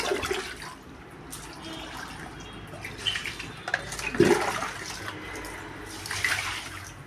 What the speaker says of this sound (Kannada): ಒಂಚೂರು ನೀರು ಹಾಕೋದು